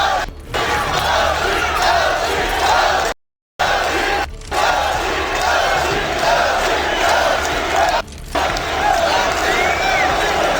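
Esports crowd at a CS:GO final in Columbus roaring and chanting loudly in a large arena, with a dense sustained cheer broken by brief cutouts and commentators' voices mixed in.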